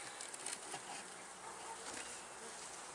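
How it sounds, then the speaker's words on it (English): Honey bees buzz steadily around a beekeeper installing a package, a faint, dense, continuous hum with no voices. "Got a bee inside my veil."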